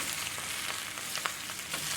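Cabbage and sausage fry in a skillet with a dense, steady sizzling hiss and faint crackles, close and continuous, no talking.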